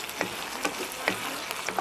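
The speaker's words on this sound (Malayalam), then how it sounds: "നന്നായിട്ട് ഇളക്കി നമുക്ക് തക്കാളി നന്നായിട്ട് വാട്ടിയെടുക്കാം" Tomatoes sauté in a pan for chutney with a soft background sizzle, while a spoon stirs and taps against the pan in a loose rhythm of small clicks and scrapes.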